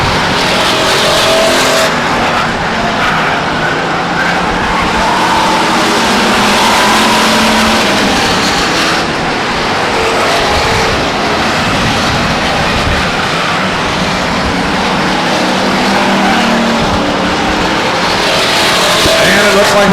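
Stock race cars, including the number 11 car, race at Stockton 99 Speedway, with engines roaring loud and continuous, revving and surging as cars pass, and a commentator talking beneath the noise.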